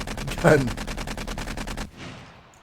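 Rapid automatic rifle fire in the video game 7 Days to Die, a fast even rattle of shots lasting nearly two seconds, with one louder burst early on, then a short fading tail after the firing stops.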